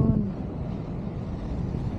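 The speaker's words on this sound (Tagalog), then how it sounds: "Ganda ng hangin dito" Steady broadband wind buffets the microphone outdoors on a coastal hillside near Stanley, Hong Kong, a continuous low rumble with sea-like wash and no speech.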